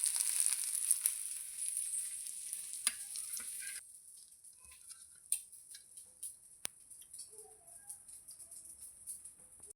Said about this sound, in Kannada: ನೆಕ್ಕೆ ಒಂದು ಆಯಿಲ್ ಪಾಡ್ದು ಒರಿಜಿನ ಮಸಾಲೆ ಉಂಡತೆ ಇನ್ನು ನಿಟ್ಟು ಫ್ರೈ ಮಲ್ಪುಗ.